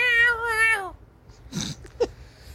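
A house cat meows loudly and close, one long drawn-out wavering cry, followed by a few brief rustles and a short sharp squeak after a pause.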